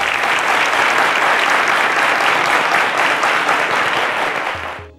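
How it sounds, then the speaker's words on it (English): A studio audience applauds steadily for about five seconds at a televised quiz show, dense clapping at full strength that cuts off abruptly at the end. "A round of applause to Deborah."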